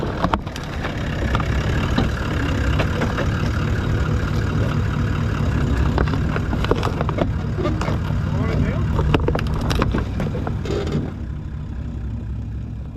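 A 3.5 tonne four-wheel drive on full tyre pressure rolls over MAXTRAX Lite recovery boards laid on rock, a steady low engine drone with scraping and creaking on top, close and continuous, while people talk over it.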